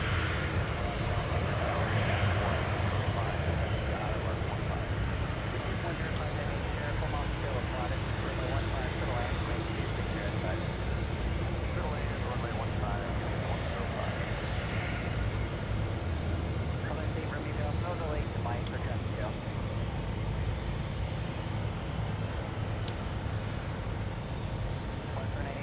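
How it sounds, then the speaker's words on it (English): An Air China airliner departs Anchorage airport, its broad jet engine roar holding steady at a distance across the whole stretch under outdoor wind, with a voice talking over it. "Beautiful departure there by Air China."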